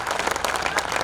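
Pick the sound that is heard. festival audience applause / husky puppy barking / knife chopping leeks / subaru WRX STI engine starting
festival audience applause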